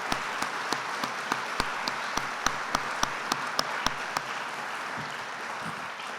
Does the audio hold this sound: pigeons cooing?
no